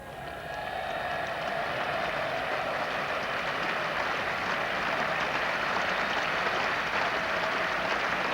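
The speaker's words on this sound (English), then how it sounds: "Swell of applause for the 100 up" A large crowd at Lord's applauds the Sussex 100 up during the 1986 NatWest Trophy final against Lancashire. The clapping swells into a steady, dense roar that holds for several seconds with no voices over it.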